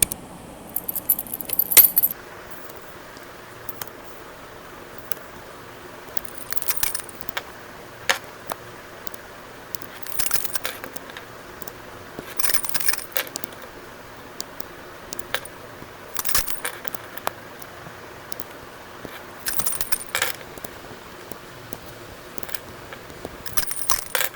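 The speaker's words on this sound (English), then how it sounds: "maybe I can use my key to get that noise" A set of keys shaken and jangled in several separate bursts, bright metallic clinking spaced a few seconds apart against a quiet room background.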